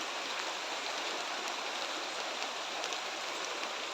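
Steady rain pouring outside a hut, a dense even hiss with no pauses, moderately loud and unbroken.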